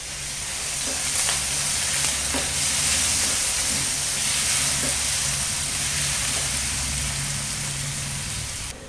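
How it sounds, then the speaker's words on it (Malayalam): Masala paste sizzling in hot ghee for an egg ghee roast, a loud, continuous close frying hiss with faint stirring scrapes, no voices. "നെയ്യ് ചൂടായി കഴിഞ്ഞാൽ നമ്മൾ ആ അരപ്പ് അതിലോട്ട് കോരിയിടുക"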